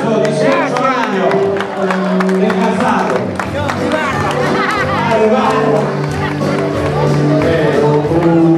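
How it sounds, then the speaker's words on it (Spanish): At a birthday gathering, a crowd claps loudly for someone turning 18, steady applause blended with cheering and lively chatter throughout. "fuerte el aplauso"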